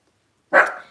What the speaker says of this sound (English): Oh, it's a doggy. It's a wee doggy. A big doggy, actually, but Daisy thinks she's a Rottweiler.